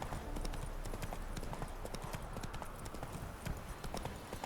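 Horse hooves clip-clopping at a canter in The Witcher 3 video game, a steady, close rhythmic patter of hoofbeats running throughout over a low game background.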